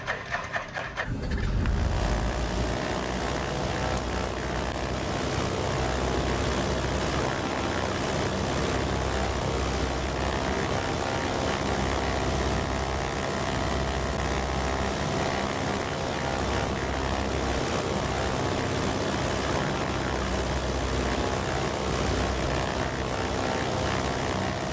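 Propeller engines of a Britten-Norman Trislander in a flight simulator game, a loud steady droning hum that holds evenly throughout after a brief start, with no talking.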